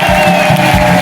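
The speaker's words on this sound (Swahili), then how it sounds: "Tumrudishie Mungu makofi mengi." Church congregation at a Tegeta A parish clapping together in a loud, steady burst of applause, with rhythmic hand claps filling the room throughout.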